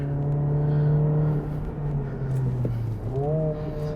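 A 2023 Honda Civic Type R engine revs strongly and steadily, then drops in pitch at a gear change and climbs again, heard loud and close from inside the car.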